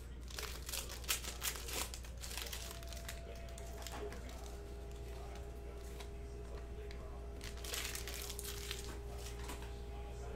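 Foil trading card pack wrappers for 2019-20 Panini Chronicles Basketball being torn open, bursts of crinkling and ripping spread through the clip amid a steady low hum and faint background voices.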